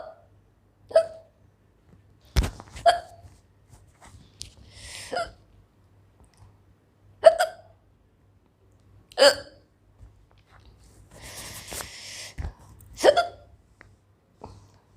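A woman hiccups repeatedly after eating black pepper, giving sharp, close hiccups roughly every two seconds across a quiet room, with a little rustling and breathing between them.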